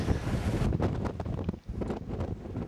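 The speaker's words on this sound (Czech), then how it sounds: "tím se zvyšovala rychlost větru" Strong wind roars across a winter mountain ridge in the Roháče range, buffeting the microphone in heavy continuous gusts that briefly ease before picking up again.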